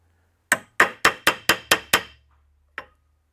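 A hammer peens rivets on a drive pulley clutch disc in seven sharp, ringing metallic strikes at an even pace, followed after a pause by one more lone blow, close and clear.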